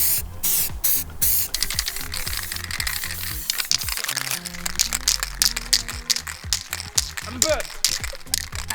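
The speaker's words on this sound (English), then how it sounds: "We've got our spray paints. It's time to go." Spray paint cans hiss in rapid bursts while terrain is painted, with short on-off sprays, a can rattling and some clattering nearby.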